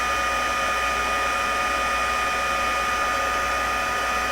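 Craft heat tool melting embossing powder on a greeting card, a steady loud blowing whir that runs unbroken throughout.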